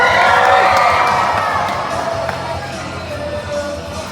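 Spectators at a Mansfield, Ohio monster truck show cheer for the truck Rap Attack, a loud burst of crowd shouting and whoops that peaks early and then gradually fades to a lower murmur.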